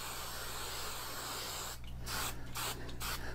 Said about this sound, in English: what I'm going to do with this is I'm just going to take my hairspray